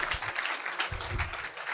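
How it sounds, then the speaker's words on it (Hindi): A seated audience at a study-strategy talk gives a round of applause, a continuous patter of many hands, soft and somewhat distant, lasting just under two seconds. "Can we have a big round of applause for Akashi?"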